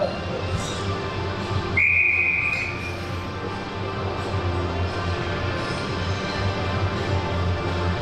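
At an ice hockey league game, a referee's whistle gives one shrill blast lasting about a second to stop play, heard over steady arena hum and crowd murmur.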